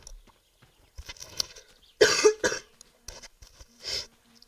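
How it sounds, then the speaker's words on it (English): A person coughs several times in short, irregular bursts close by, with a couple of louder, harsher coughs in the middle and quiet gaps between. "Sorry guys, I just had to cough."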